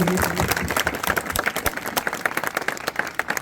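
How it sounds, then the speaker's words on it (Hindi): Crowd applause at an outdoor municipal election rally, a dense, sustained wash of many hands clapping at steady loudness, with no clear speech over it. "एक बार जोरदार आशीर्वाद के लिए ताली बजाइए।"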